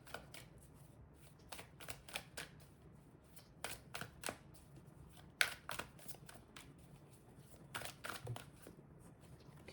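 Tarot cards shuffled and handled by hand, a run of quick, crisp riffles and flicks close up, with soft rustling between them and no talking.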